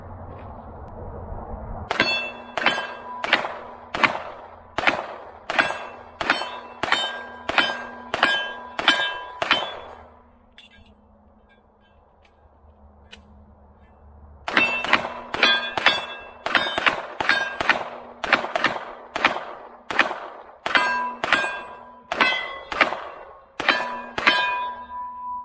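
Rapid pistol shots from a Canik Rival ring out in two strings, close and loud with sharp metallic clang, broken by a short pause around a magazine change before firing resumes.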